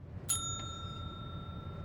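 A single bell ding in the adventure video game Secret Files 2, a sharp struck tone with a long ringing sustain that slowly fades over quiet background hum.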